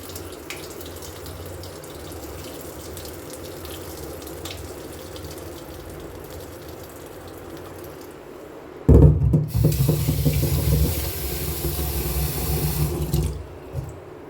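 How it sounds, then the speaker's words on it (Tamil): Water drains off black rice soaked overnight, a soft background trickle that suddenly turns into a loud, splashing gush pouring into a sink for several seconds before easing off. "நம்ம நைட்டு ஊற வச்சு தண்ணியை வடிப்போம்."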